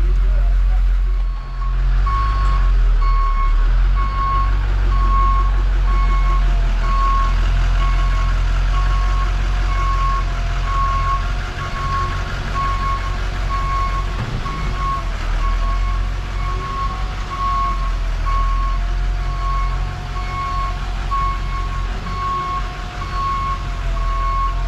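A piano mover's truck backs up to a high loading dock, its reverse alarm beeping steadily at an even pace over a constant low engine rumble, with people talking at times.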